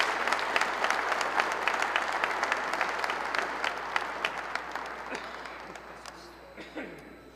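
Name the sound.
audience applause welcoming the friar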